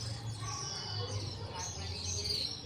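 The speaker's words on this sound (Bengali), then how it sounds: "পাখির আওয়াজটা শুনেছো কত সুন্দর?" Small birds chirp and tweet faintly in the grounds of a temple at the Ambika Kalna Rajbari, their calls scattered over a soft, steady background hum of insects.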